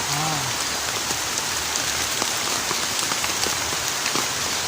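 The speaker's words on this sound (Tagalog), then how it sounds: "Naigo sa ulan." Steady rain falls outdoors while people gather wood, a dense, even hiss of drops on surfaces with a few scattered heavier taps, close and continuous.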